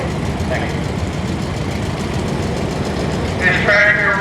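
An antique prototype tractor engine runs at a steam engine association parade, a steady low rumbling idle continuing throughout, fairly loud and close, with outdoor crowd noise.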